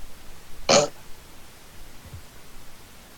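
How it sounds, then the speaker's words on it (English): A single short burp during a senate roll call vote, loud and close, followed by quiet room tone and a faint low murmur. "Was that an aye or a burp?"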